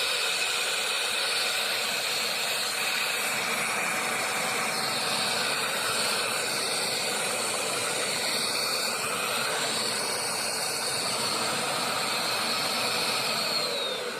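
A Fantom vacuum cleaner runs continuously with a loud, steady, airy roar and hiss that holds unchanged from start to finish, with no talking.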